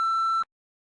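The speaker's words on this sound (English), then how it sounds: "Leave a message at the beep." A single steady answering-machine beep from the video game Blue Heat, a clean tone held for just under half a second before cutting off abruptly into silence.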